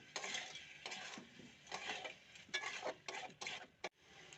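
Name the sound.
stirring boiled new potatoes in spice masala in a pan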